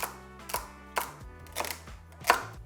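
A knife chops through celery on a cutting board in five steady, evenly spaced strokes, close up, with no voices.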